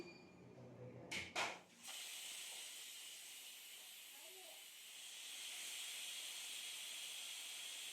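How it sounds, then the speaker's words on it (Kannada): A pressure cooker vents a steady, loud hiss of steam while mushroom biryani cooks, following a couple of sharp clatters at the start, continuing alone. "ಇವಾಗ 2 ವಿಷಲ್ ಬರೋ ತನಕ ಕೂಗಿಸ್ಕೊಳ್ಳೋಣ."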